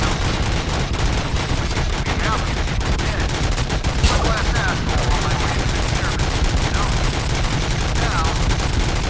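Dense, continuous gunfire in the RoboCop: Rogue City video game, with rapid automatic bursts and shots layered into a loud, unbroken barrage throughout, with scattered voice fragments underneath.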